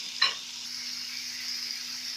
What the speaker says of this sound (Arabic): نستمر في التقليب